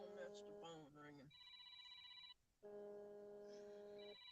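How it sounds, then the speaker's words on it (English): A telephone rings in an outdoor setting during carp fishing, with steady electronic tone bursts separated by a short gap, loud and close, while a person talks over the start. "that's the phone ringing."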